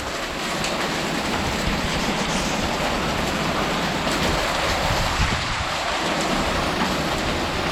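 A wicked windstorm with hail roars in a dense, continuous wash of wind and pelting that stays loud and steady throughout, with no voices.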